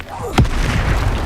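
A Confringo blasting spell explodes in Hogwarts Legacy, one short sharp burst that quickly fades into a low rumble amid game background noise.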